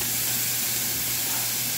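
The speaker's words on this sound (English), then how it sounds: "In the same pan, I'm going to cook the pineapple." Pineapple frying in a hot pan gives a steady, close, even sizzle and hiss that carries unbroken throughout, with no voices.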